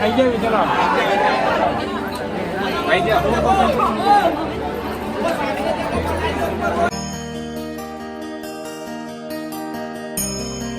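Dense crowd chatter and murmuring voices fill the long pilgrim queue at Omkareshwar temple, a continuous babble of many people nearby, with faint clinks and a brighter tonal jingle emerging in the last few seconds.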